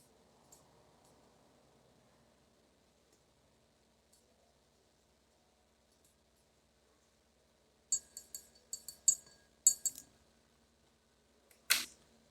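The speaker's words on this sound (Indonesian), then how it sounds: "Kita aduk dulu sampai merata." A solution stirred in a glass of about 200 ml of water, giving a quick burst of sharp clinks for around two seconds and one last clink after, set against a quiet background.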